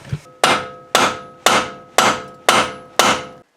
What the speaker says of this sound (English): You put your punch in there, get a big old hammer, and start going to town on it.